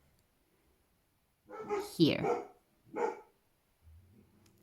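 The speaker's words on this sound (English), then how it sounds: "You probably hear my dogs." Dogs barking in the countryside, a couple of bursts at moderate distance, with a voice speaking briefly in the clip.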